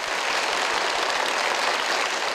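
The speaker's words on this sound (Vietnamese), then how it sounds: "hãy dành một tràng vỗ tay để chúng ta bắt đầu" A studio audience at a Vietnamese television quiz show applauding, a dense, loud and steady roar of many clapping hands with no break and no talking.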